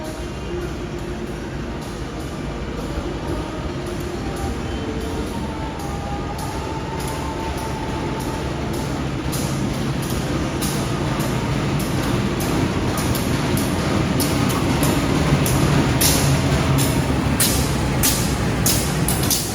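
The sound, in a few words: passenger train arriving at station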